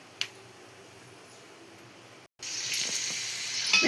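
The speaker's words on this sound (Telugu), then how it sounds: "కొంచెం అయితే ఆయిల్ ఉంచుకొని ఇప్పుడైతే తాలింపు చేస్తాము." Hot oil is readied for tempering spices: a faint, quiet hiss at first, then a louder steady sizzle after a brief cut, with no voices.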